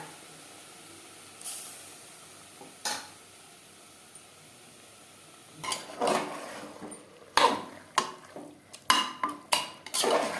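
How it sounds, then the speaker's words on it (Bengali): Mutton stirred with onions and spices in a pan, scattered scraping and clinking of a spatula against metal, sparse at first then quicker and louder toward the end, with no talking. "মাংস বেশ ভালো করে মিক্সড করে দেবো"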